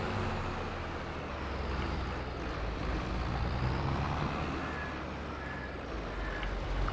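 Tractor engine in Farming Simulator 22 on a farm, a steady broadband drone with a low rumble held at an even level throughout, loud and continuous with no talk over it.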